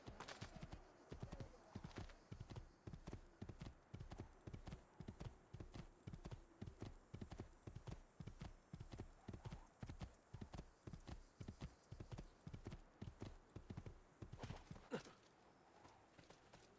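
Steady rhythmic clip-clop of horse hooves galloping in Assassin's Creed 2, a regular beat of close hoofbeats over ambient game sound, stopping abruptly near the end.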